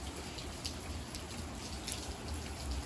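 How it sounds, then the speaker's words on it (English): Rain falls in a steady, even patter, with scattered individual drops ticking sharply against a surface over a continuous soft hiss. "just enjoying the rain."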